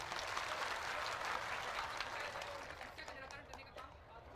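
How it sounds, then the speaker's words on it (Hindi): Applause from the audience at a religious darbar gathering in Bhopal, a dense sustained wash of many hands clapping that stays loud throughout, with crowd voices mixed underneath and a slight thinning toward the end. "हाथ उठा के बढ़िया ताली बजा दीजिए।"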